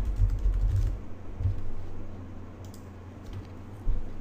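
Rapid typing on a computer keyboard, a dense run of soft close-up key clicks that thins toward the end, with no talking.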